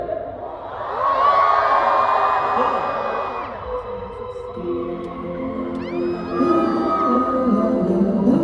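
A K-pop concert crowd at an encore show screams and whoops together, a loud, sustained roar of many high voices that swells, dips briefly and surges again.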